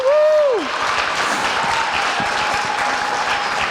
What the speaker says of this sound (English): One last round of applause for our awesome seniors.